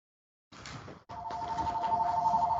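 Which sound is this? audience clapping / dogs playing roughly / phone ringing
phone ringing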